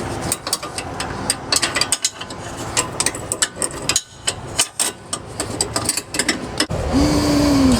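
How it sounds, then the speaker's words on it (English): A ratchet clicks rapidly and repeatedly while tightening a bolt during AC compressor work on a 2012 Mercedes GL350, close and crisp with brief pauses between strokes. "get your ratchet and tack onto it there to tighten it down"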